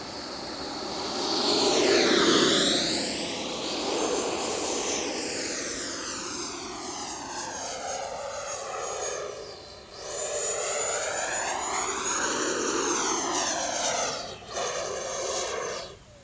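An FMS Avanti 90mm electric ducted fan model jet flies past repeatedly, its loud whining rush rising and falling in pitch with Doppler sweeps as it passes near and away.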